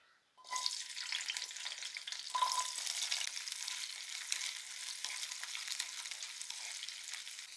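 Shallots (small onions) hit hot oil with an abrupt burst of sizzling, then keep up a constant bright crackle, fairly close and alone with no voices.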